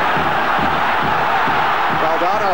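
Stadium crowd roaring and cheering at an international football friendly between Argentina and West Germany as Diego Maradona takes his first touch, a dense, sustained wall of crowd noise with shouts rising through it.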